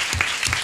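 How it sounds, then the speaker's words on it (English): Audience applause at a poetry reading and awards ceremony, a short steady patch of clapping that fills the moment evenly without any voices. "that round of applause also is for the teachers and the librarians and the families and the friends"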